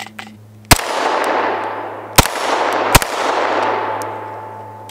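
Three sharp, reverberant gunshots from a Syndicate S2 compact pistol build (Agency Arms kit) ring out at irregular intervals, with the pauses between them marking feeding malfunctions; each crack is loud, close and trails off in a long echo.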